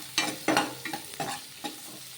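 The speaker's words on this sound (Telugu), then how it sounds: "ఇలా కొంచెం వీటిని ఫ్రై చేసేద్దాము ఆయిల్లో." A spoon stirs ingredients frying in hot oil for a puffed-rice noodle recipe, a few close scraping strokes in an irregular rhythm over a soft sizzle.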